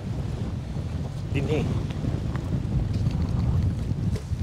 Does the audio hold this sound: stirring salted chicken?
no